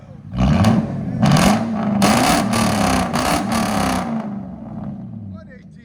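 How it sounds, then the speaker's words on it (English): A 2002 Lexus LS 460 with a 4.6L V8 and true dual straight pipes, revved hard in about five loud, close bursts over roughly four seconds, then settling to a rumbling idle, with voices talking alongside. "Bro, every time you rev it, it gets louder."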